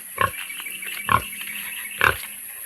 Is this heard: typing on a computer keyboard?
no